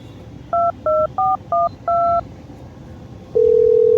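Five quick touch-tone beeps as a phone number is dialed, followed by a steady ringing tone starting near the end.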